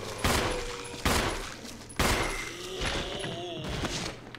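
Three heavy gunshot blasts in Resident Evil Remaster HD boom out about a second apart at an enemy on the ground, each ringing down, followed by a softer rumbling burst with a faint voice underneath.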